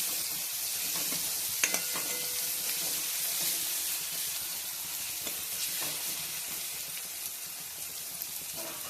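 Steady oil sizzle fills the clip, with a few light utensil clicks and scrapes now and then and no talking.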